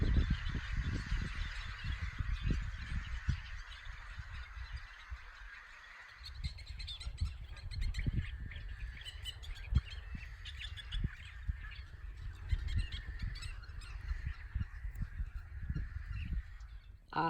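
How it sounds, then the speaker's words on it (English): A chorus of many birds calls continuously at a marsh by warm mineral springs, with honking goose-like calls and chirps overlapping throughout, fairly close, no talking. "And do you hear all the birds?"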